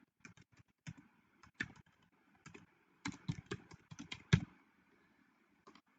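Someone types an email address on a computer keyboard, producing quiet, irregular clicks of individual keystrokes in short clusters separated by pauses, heard close up.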